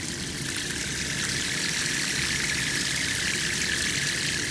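Water rushing steadily through a small hydro generator turbine on a senior design project rig, a continuous broadband hiss and splash with a low mechanical hum beneath, close and even throughout.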